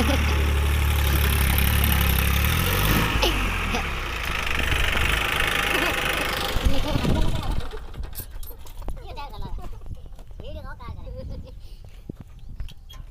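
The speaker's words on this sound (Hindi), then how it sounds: "अभी इस ट्रैक्टर को जोते हैं" A tractor converted into a backhoe loader runs with a loud, close, low rumbling engine for several seconds, then the engine drops to a quieter idle as someone talks over it.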